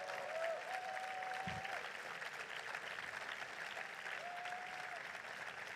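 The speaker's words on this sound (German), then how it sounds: "Das ist euer Applaus." A crowd at an SPD rally in Hannover with Stephan Weil and Olaf Scholz applauds local representatives, with steady, moderately distant clapping and brief whistles or cheers rising through it.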